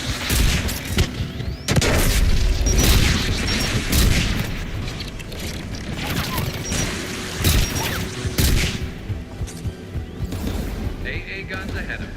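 Anti-aircraft guns in Mass Effect 3 pound in dense, rapid bursts with deep booms. The barrage is loud and near and almost continuous, with voices talking over it in places.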